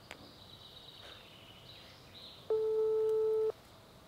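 A single one-second telephone ringback tone sounds clearly, a steady electronic purr, preceded by faint background noise and soft chirps.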